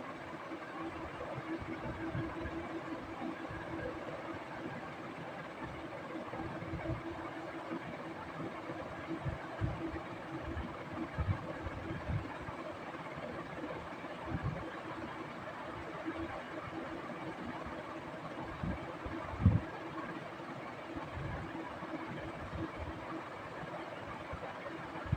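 A sewing machine top-stitching a side pocket onto a pant, a steady low mechanical whir in the background with a faint rhythmic hum and a few soft knocks, no talking.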